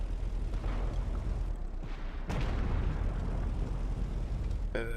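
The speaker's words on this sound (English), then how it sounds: "That thing must have a fast gun on it, because he just keeps shooting everything very quickly." A vehicle's gun in a video game fires rapidly amid a dense, rumbling wash of battle explosions, with one sharp burst standing out midway and a quick rattling run of shots at the very end.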